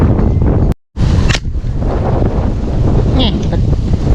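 Strong wind buffets the microphone at sea during airgun fishing from a small boat, a steady loud roar with a brief dropout near the start and faint voices beneath.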